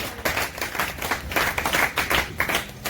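A church congregation at a French-language Sunday worship service claps together in a dense, steady rhythm, loud and close, with no clear voices over it.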